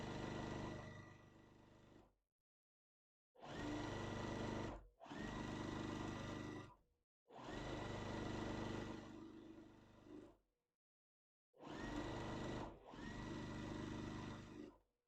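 A sewing machine stitching quilt block pieces in several steady bursts of rapid whirring, each lasting a second or two, separated by short silent pauses, close and clear.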